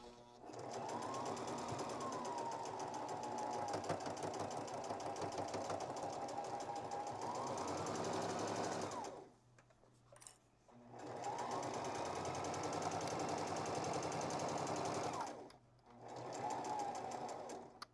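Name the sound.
sewing machine stitching a shirt into a pillow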